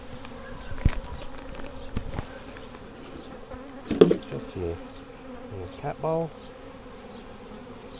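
Honey bees from a swarm buzz around a cat bowl on the ground, a steady hum with a few louder close passes. A person speaks briefly over the buzzing.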